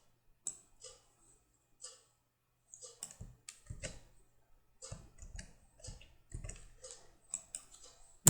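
Computer keyboard being typed on while writing Java code, a run of irregular, close clicky keystrokes in short bursts with small pauses, quiet and alone with no talking.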